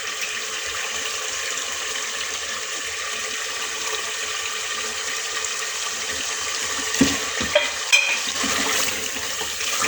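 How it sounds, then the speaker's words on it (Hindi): Yogurt sizzles and bubbles as it is fried with onions in a pot for arbi gosht, a steady moderate frying hiss with a few brief clinks of stirring near the end. "अच्छे से दही भून लूँ।"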